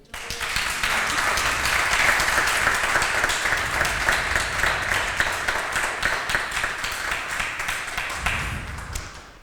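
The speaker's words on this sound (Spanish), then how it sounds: "Un aplauso, Señor." A church congregation at a communion service breaks into loud, dense applause from many hands that swells and holds for several seconds before tapering off abruptly.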